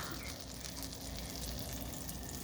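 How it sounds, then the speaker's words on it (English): Butter melting in a hot pan after the flame is turned off gives a soft, steady crackling sizzle, faint and close, with no talking. "Now the butter is actually melting from the pan."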